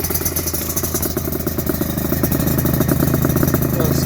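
A 1991 Suzuki RGV 250 VJ22 two-stroke motorcycle engine idles steadily with balanced carburettors, a continuous close, loud mechanical drone with rapid pulsing that holds even throughout.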